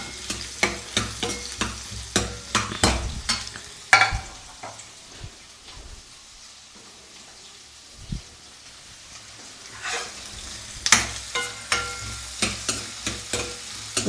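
Sliced onions sauté in a pan for mutton stew, with bursts of spatula stirring and scraping over a soft sizzle, a quieter stretch in the middle, then renewed stirring.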